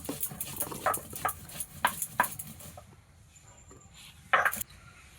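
Ginger and cumin being ground by hand with a stone pestle on a flat grinding stone in a village kitchen: a close run of rhythmic scraping strokes, then a pause and one last short burst of grinding.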